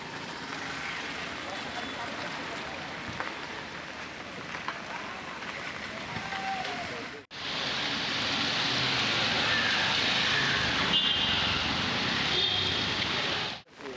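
Heavy monsoon rain in Mumbai, a steady dense hiss of rain on surfaces with a brief cut midway before an even louder downpour resumes.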